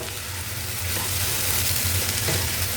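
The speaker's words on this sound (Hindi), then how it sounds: "and now I am going to give it a stir" Mixed vegetables fry in a pan, giving a loud, steady sizzle close by that swells slightly as they are stirred, with no speech.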